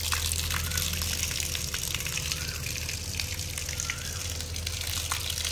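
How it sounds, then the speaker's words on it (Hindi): Water gushes steadily from a tap while household items are washed with Surf detergent, a loud continuous rushing flow close by with a faint constant hum underneath, no voices. "अभी इसे अच्छे तरीके से वाश कर रहे हैं"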